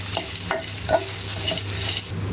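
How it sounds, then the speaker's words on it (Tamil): Red chillies and coconut pieces sauté in hot oil in a pan, giving a steady close sizzle. A spoon scrapes and stirs in several short strokes, with no talking. "இதெல்லாம் சேர்த்து தேங்காய் கொஞ்சம் பொன்னிறம் ஆகுற வரைக்கும் வதக்கிக்கலாம்."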